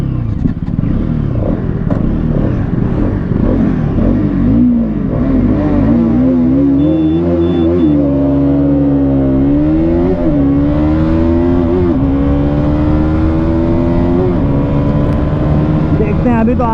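TVS Apache RS200 BS7 and KTM RC200 motorcycles rev hard through the gears in a drag race, a loud continuous engine whine rising and falling in pitch with each shift.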